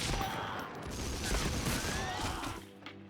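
A rapid, dense burst of gunfire rattles through a Medal of Honor: Frontline battle, with overlapping shots and crashing impacts that thin out toward the end.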